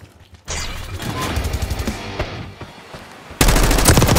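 Rapid automatic gunfire in a Call of Duty game, dense bursts of loud close shots rattling for a couple of seconds, a brief lull, then a sudden heavier burst of fire.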